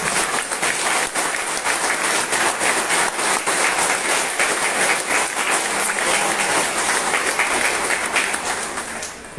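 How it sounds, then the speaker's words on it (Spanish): An audience at a political project presentation in Venezuela claps loudly and continuously, a thick wash of many hands that holds steady for several seconds before easing slightly at the end. "demos un aplauso como homenaje a nuestros jóvenes"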